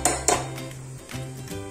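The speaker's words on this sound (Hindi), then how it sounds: "ये जो खटाई बची है इसको फिर से हम मिक्सी के जार में डालेंगे" Metallic clinks and clatter of a utensil against a steel mixer grinder jar as food goes in, two sharp knocks followed by softer scraping, close by with no voices.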